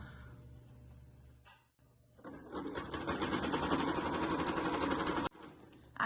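Sewing machine backstitching beach bag fabric runs in a loud, fast, steady rattle of stitches for about three seconds, framed by quieter handling sounds.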